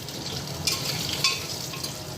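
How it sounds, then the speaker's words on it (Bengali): Potatoes fry in a pan with a steady, close sizzle, broken by a few brief scrapes of stirring and no voices. "দেখো আলু ভাজা বসে দিয়েছি"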